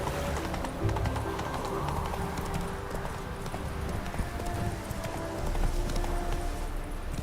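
A horse gallops in The Witcher 3 with rapid, rhythmic hoofbeats that run close and steady throughout, against a busy game soundscape.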